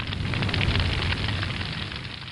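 A processed fire sound effect gives a dense, roaring crackle that stays full for about two seconds and then eases slightly. It is close and heard alone.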